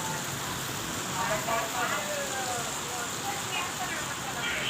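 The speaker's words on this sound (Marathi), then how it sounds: "इतका भयानक पाऊस" Heavy unseasonal rain pours down in a dense, continuous hiss that stays steady throughout, with faint voices murmuring beneath it.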